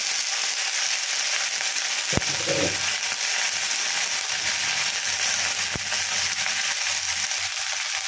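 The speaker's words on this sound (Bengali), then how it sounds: "ভেন্ডিটাকে আমি ভালো করে ভেজে নেব" Okra pieces sizzle steadily in hot oil in a pan, a dense continuous hiss with a couple of sharp clinks of a utensil against the pan.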